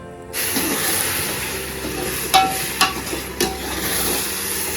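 Steady sizzle of chicken frying in a pan for biryani, with a few sharp scraping clinks as it's stirred, loud and close.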